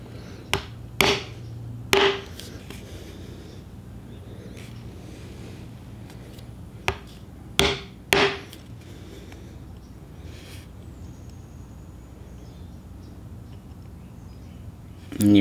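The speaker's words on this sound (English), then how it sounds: "I'm going to hold my chisel at a slight angle." A flat chisel is struck sharply to hand-carve stars into a wooden flag, giving a few loud, close, isolated taps, some of them in quick pairs, with quiet gaps between them.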